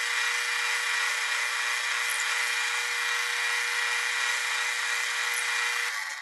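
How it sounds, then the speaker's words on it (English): Power drill boring a wide hole in wood to seat the collar of a T-nut for a chisel and plane-blade sharpening jig, a steady, loud, continuous whine held for several seconds, easing off right at the end. "what I need to do now is drill a hole wide enough for the outside of that T-nut"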